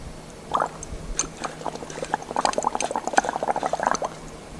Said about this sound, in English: We are using plastic straw to mix the solution.